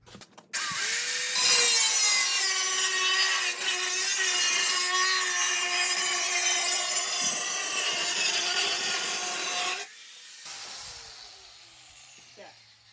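An angle grinder with a cutoff wheel slices a steel barrel lengthwise, a loud, steady whining cut for about nine seconds before spinning down and stopping.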